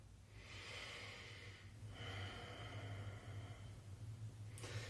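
A slow, audible exhale of breath during a gentle morning yoga flow, a soft airy rush that swells, fades and returns over a low steady hum.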